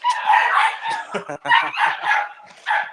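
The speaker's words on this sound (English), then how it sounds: "Y'all might hear these puppies barking" High-pitched yips and barks from young dogs, several in quick succession, close and loud, mixed with a voice talking.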